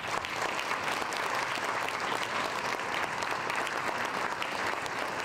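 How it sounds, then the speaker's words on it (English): Conference audience applause at a reception, a steady, even roar of many hands clapping at a moderate distance, continuous from start to finish with no voice standing out. "Let's give him another round of applause."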